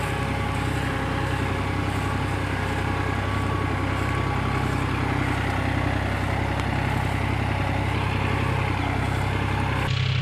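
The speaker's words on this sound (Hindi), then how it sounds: "कल्टीवेटर भी आप देख सकते हैं कितने डाउन से चला रहे हैं, पूरी गहराई के साथ चल रहा है ट्रैक्टर" A John Deere 5045 4WD tractor pulls a cultivator at full depth through a wet field, its diesel engine droning steadily and loudly from close by.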